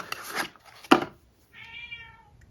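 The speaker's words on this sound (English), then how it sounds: "My cat is crying in the background for attention." A senior cat gives a single drawn-out meow for attention, fairly faint and slightly distant, following a few soft rubbing and tapping noises nearby.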